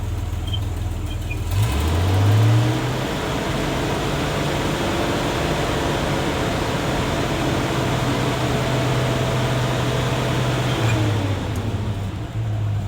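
A 1984 Toyota Land Cruiser converted into a fire truck, its engine idling steadily and rising briefly in pitch as the throttle is blipped near the start, then settling back to a constant close-up hum.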